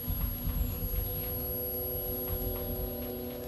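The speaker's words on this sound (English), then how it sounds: "The only sound coming from the radio is like the buzzing of a mosquito." A radio giving off nothing but a thin mosquito-like buzzing hum, steady and even throughout, faint and alone with no voices.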